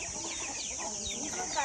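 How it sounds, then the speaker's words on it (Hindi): Hens and a brood of chicks in a village farmyard, soft clucks and thin peeping calls scattered over a short stretch, faint and somewhat distant with light background noise. "देखो मुर्गी के बच्चे बहुत सारे।"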